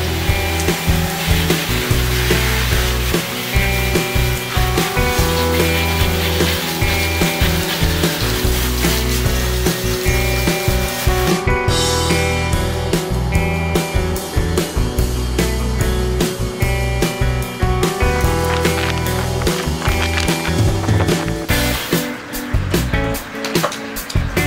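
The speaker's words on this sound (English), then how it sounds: "Just gonna give it a full hose down, scrub down, and then take it back inside" A garden hose sprays and scrubs down a budget mountain bike outdoors, making a steady loud hiss of water against the frame throughout, with sharper spattering bursts toward the end.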